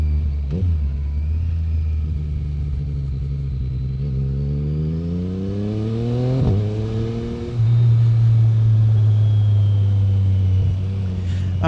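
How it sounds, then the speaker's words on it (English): A Yamaha MT-09 SP motorcycle with an aftermarket exhaust revs up in rising sweeps, pitch climbing, then drops with a sharp quick-shifter shift and settles into a louder, steady drone, close by. "That sounds so good with the exhaust and the quick shifter."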